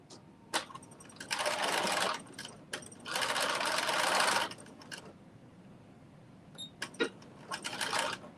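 A sewing machine running a basting stitch in bursts: two long stretches of steady whirring stitching separated by brief pauses, with short clicks and taps between runs, fairly close and without talk.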